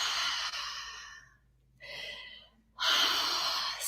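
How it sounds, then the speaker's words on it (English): Deep breathing in and out during a guided relaxation exercise: a long airy exhale, a pause, a softer breath, then a strong inhale, close and alone. "Step 2 is the breathing. So 10 breaths, and we're going to do in and out."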